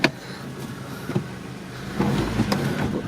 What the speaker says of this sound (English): So let's go in reverse. Let's move the car.